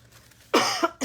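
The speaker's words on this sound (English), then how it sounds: "I wish this cough would go away." A single sharp, close cough bursts out after a quiet start, followed by a smaller second cough.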